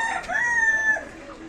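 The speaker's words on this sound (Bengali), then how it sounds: "মুরগি আছে, ভালো ভালো মুরগি আছে," A rooster at a village poultry market in Barrackpore, Nilganj, crows once, a clear nearby call lasting about a second over faint background.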